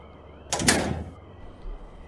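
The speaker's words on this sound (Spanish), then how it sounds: "la enorme puerta que User señalaba abrió sus hojas como quijadas de ébano" A huge, heavy door swings open as an audiobook sound effect in a gothic horror tale, a single sweeping burst with a long creaking, grinding body that fades out after about half a second, heard alone with no speech.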